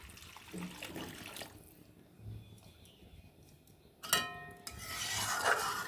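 Water goes into a cooking pot of fried spices for a fish curry, a quiet trickle and rush that swells near the end, with faint rubbing and clinks before it.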